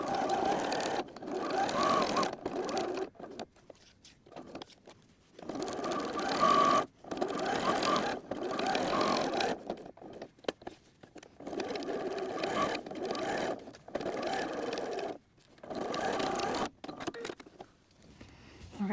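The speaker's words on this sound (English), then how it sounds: "So now we're going to be sewing top, side, bottom, and the same thing on the other side." A sewing machine stitches the seams of a quilted notebook cover, running in bursts of steady mechanical whirring broken by short pauses, close and moderately quiet.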